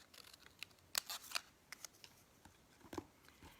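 Scissors cut paper square for a stamping craft project, giving a few faint, quick snips in short bursts close by in a quiet room.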